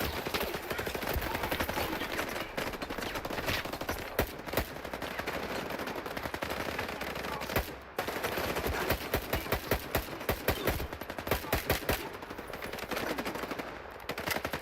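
Dense, sustained automatic gunfire in the video game S.T.A.L.K.E.R. 2, rapid bursts of shots layered over one another almost without a break.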